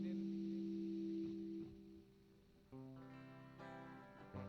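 An electric guitar with distortion crunch plays sustained, buzzing chords at a worship service, held steady then shifting to a brighter, denser chord near the end, fairly loud and steady with no voices.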